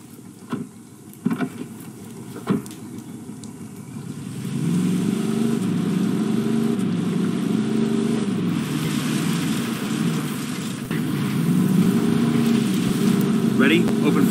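A car driving in Ghost Recon Wildlands: a few thumps early on, then a steady engine drone takes over and rises slightly toward the end, with voices talking over it.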